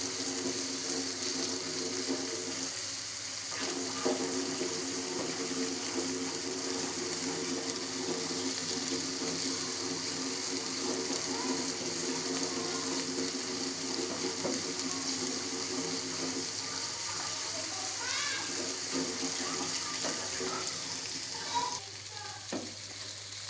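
Crushed ginger and garlic fry in browned onions in a handi for Mughlai chicken, giving a continuous close sizzle with occasional scraping and clinking from stirring throughout.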